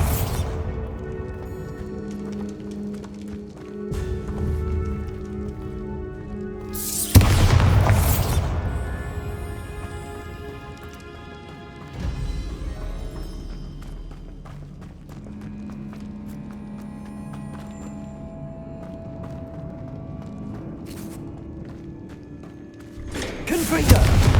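Bombarda spell blasts going off during play in Hogwarts Legacy, with two loud booming impacts several seconds apart standing out from a continuous bed of game music and background rumble.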